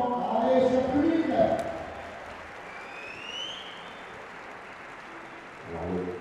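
Spectators applaud at a junior women's recurve archery gold medal match in Nîmes, a burst of clapping near the start that fades into a quieter hall, with a commentator's voice talking over and after it.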